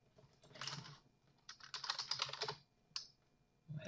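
A password typed on a computer keyboard in a few quick bursts of close, crisp key clicks, ending in a single firmer keystroke, quiet overall with no talking.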